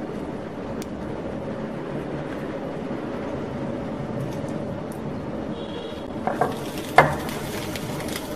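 An egg with mơ leaves fries in a pan without oil, giving a steady close sizzle throughout, with a few light clinks and scrapes of a utensil near the end.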